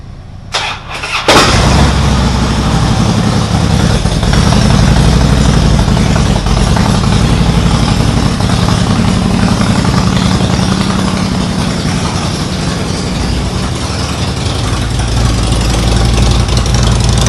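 A 2004 Subaru STI in a garage cranks briefly, catches and settles into a loud, steady idle that runs on continuously, close to the listener.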